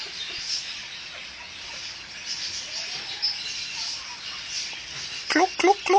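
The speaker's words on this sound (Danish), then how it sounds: "er ænder og høns." Ducks and chickens at an adventure playground farm, with quiet ambient background and a few short bird calls near the end, close and fairly clear.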